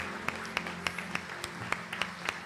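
Scattered, sparse claps ring out at an uneven pace from a church congregation during a Brazilian service, each one sharp and distinct over a low background hum.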